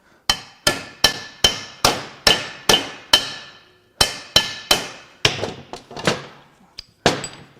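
Sharp metallic hammer blows knock at a stuck bearing in a 2023 Audi e-tron / Volkswagen ID.4 EV drive motor, about seventeen loud close strikes in a steady rhythm with a short pause midway, each ringing briefly.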